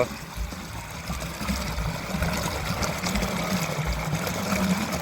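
Water runs from a tank into a brinjal field in a village, a steady nearby trickling flow with a low engine-like rumble beneath and no talk.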